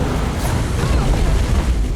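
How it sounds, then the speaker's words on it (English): A tentacle explosion in Skyrim hits as a dense, loud, continuous rumbling burst that fills the whole moment without letting up. "See how that tentacle explosion just happened on me?"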